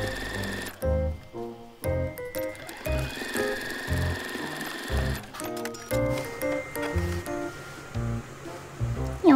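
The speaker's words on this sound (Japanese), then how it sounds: "はい、では今印をした13センチのラインで縫っていきます。" A sewing machine stitches a marked 13 cm seam on a shoulder bag, running in a rapid mechanical whir of short, repeated bursts alongside steady background music.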